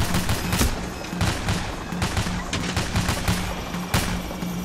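Gunfire in the co-op heist shooter PAYDAY The Heist: dense, loud volleys with many sharp overlapping shots over a constant noisy din.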